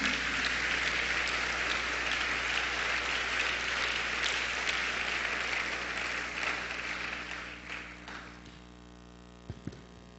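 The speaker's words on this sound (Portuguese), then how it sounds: "pode aplaudir o nome do Senhor Jesus." A church congregation applauds during a service, a dense sustained wash of clapping that holds steady for several seconds, then fades and trails off into a few last scattered claps.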